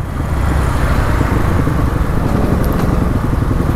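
A dirt bike engine roars loud and close on an off-road ride, a continuous rough rumbling drone that dips briefly midway before surging on.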